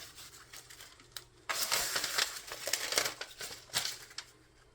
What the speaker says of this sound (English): But you're just going to take the butcher paper off.